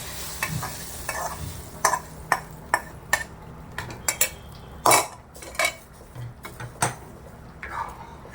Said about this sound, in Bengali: এবারে আমি ঝিঙেগুলো ঢেলে দেবো।